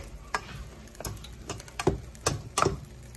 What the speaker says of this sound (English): I'm going to mix that up just a little bit.